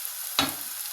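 Tomato paste hits a hot pan for Chinese-style spaghetti, giving one sudden close sizzle burst that fades quickly into a soft frying hiss.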